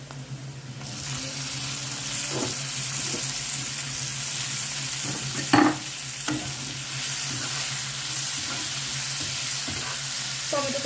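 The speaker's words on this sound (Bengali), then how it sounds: "খুব সুন্দর লাল লাল ভাজা হয়ে গেছে আমি এবার ওর মধ্যে দিয়ে দেবো একটু টমেটো কুচি" Pieces of katla fish fry in hot oil with chopped tomato, a steady loud sizzle running throughout with occasional clinks and scrapes of a spatula stirring the pan.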